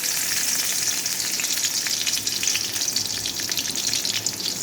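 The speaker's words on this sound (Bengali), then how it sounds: "কড়াইতে আমি তেল দিয়ে দিয়েছি আর মাথাটা ভাজার আগে প্রথমে আমি এর মধ্যে দিয়ে দেবো কটা রসুনের গুঁড়া" Garlic fries in hot oil in a kadai, a dense continuous sizzle and crackle with light stirring, close and loud throughout, with no voices.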